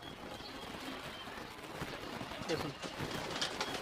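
Pakistani pigeons at a keeper's standing coo softly amid a noisy outdoor background, faint murmuring calls under a voice.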